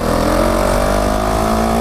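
Motorcycle engine running steadily while a beginner rides, a loud, close, continuous drone with a slowly rising pitch throughout.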